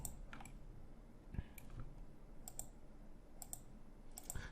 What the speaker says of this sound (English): Shift, left mouse click, and try to select them all.